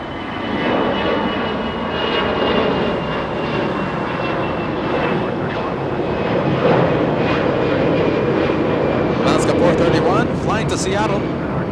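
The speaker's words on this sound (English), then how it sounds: "that 767 should be lifting off like an absolute rocket" A Delta Boeing 767 jet on a charter flight to Seattle roars down the runway at Los Angeles International Airport and lifts off, a loud sustained engine thunder with rising whine, while a person talks over it throughout.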